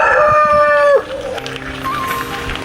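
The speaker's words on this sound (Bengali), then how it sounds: "সবাই ভাই মোরগ ডাকলো" A rooster crows loudly and close at dawn, one long harmonic call that breaks off after about a second, followed by faint farmyard background and a short distant call.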